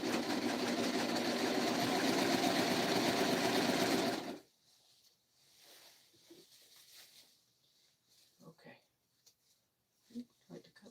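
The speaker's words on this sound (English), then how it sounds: "I'm stitching, I'm serging cautiously." A serger sewing machine stitches fabric late at night with a steady, close, loud mechanical whir for about four seconds, then stops, leaving quiet shuffling and faint voice-like sounds.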